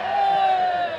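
A football crowd at a Farnham Town v Knaphill match bellows a sustained, loud, jeering shout at the goalkeeper, one continuous roar lasting about a second.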